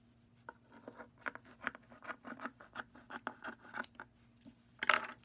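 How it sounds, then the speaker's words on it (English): Scissors cut a strip of felt for a plush toy hat, a steady run of close, quiet snipping crunches, ending in one louder cut, with no voices. "I'm going to cut a pretty decently sized strip of felt here from the bottom"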